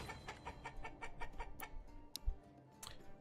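Chickens cluck in a farming village in the medieval city-builder Manor Lords, a string of short, rhythmic clucks followed by a few louder squawks, no one talking.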